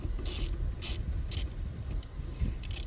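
Ratchet with a 10mm socket loosening the negative battery terminal on a Ford Maverick, giving several quick bursts of metallic clicking in an uneven rhythm, close and fairly loud with no talking.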